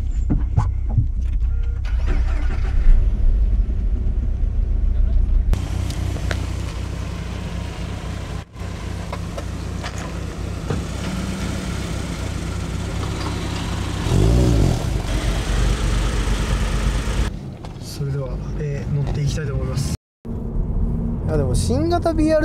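New Subaru BRZ sports car driven on a mountain pass road by a rally champion, steady engine and road drone running throughout, near and fairly loud, with a brief cut near the end and people talking over it.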